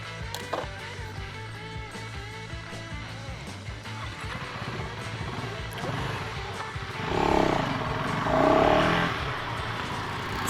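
2024 KTM Duke 390 naked motorcycle on the move, a steady engine drone with rising revs and a louder surge toward the end, recorded close amid road and wind rumble.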